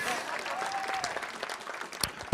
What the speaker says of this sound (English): Yeah, give a round of applause.